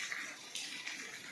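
Rainwater leaks indoors through a ventilation opening and makes a faint, steady trickling hiss in a closed house during heavy rain. There is no talking.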